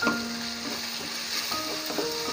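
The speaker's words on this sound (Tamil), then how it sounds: "இப்போ வந்துட்டு நம்ம கருவேப்பிலை போட்டுக்கோங்க." Curry leaves and green chillies sizzle steadily in hot oil in a pan while being stirred, a close, continuous frying hiss with light scraping.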